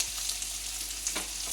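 Onions frying in a pan for mutton curry, a steady soft sizzle at low level with a faint clink or two, no talking.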